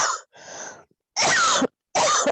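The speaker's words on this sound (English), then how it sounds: "Somebody's got their mic on and is coughing." Several harsh coughs in quick succession, close and loud, with short silent gaps between them and no talking, from someone with an open microphone during an online meeting.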